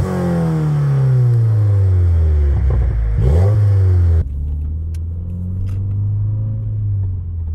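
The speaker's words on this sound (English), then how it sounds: "let's hear an exhaust clip" A 2020 Subaru WRX exhaust revs hard, climbing and dropping in pitch with a loud, close rumble, then cuts off and settles into a steady lower drone with a few light clicks, no talking.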